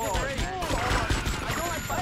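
Rapid, heavy gunfire from a big gun in GTA Vice City, a dense rattle of shots mixed with other game sounds and speech.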